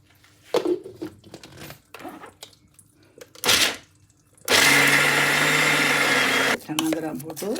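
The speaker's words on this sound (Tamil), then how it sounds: "நான் முதல்ல கொஞ்சம் கூட உள்ளதை நான் நல்லா கொஞ்சம் பசையாக அரைக்கிறேன்" A kitchen mixer grinder whirs loudly at full speed for about two seconds, grinding soaked chickpeas into a paste for kadalai vadai, with handling clatter and knocks of the jar before and after the steady motor roar.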